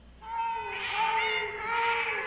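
A cartoon cat from American Dad lets out a long, whining meow that swells twice, fairly close and loud over a faint background.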